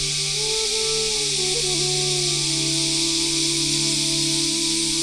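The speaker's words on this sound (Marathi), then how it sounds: "तुम्ही आवाज ऐकू शकताय, रातकिड्यांचा एवढा किर्र आवाज आहे." Loud, unbroken chorus of crickets in a sacred forest grove at the Ambeshwar temple in Amba Ghat, Kolhapur, a steady shrill hiss filling the whole stretch with no voices.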